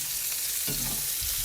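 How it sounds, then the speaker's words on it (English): Sweet potatoes are frying in a little olive oil in a pan, making a brief, quiet, steady sizzle with a faint stir partway through. "Enough to get the sizzle in there"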